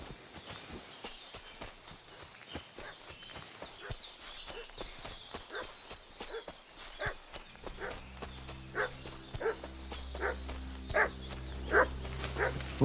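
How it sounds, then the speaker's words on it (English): A dog in the medieval setting of Kingdom Come Deliverance 2 barks repeatedly at a distance, short sharp yelps scattered over steady footsteps or hoofbeats, with a low droning background joining in the later half. "What's that dog making such a fuss about?"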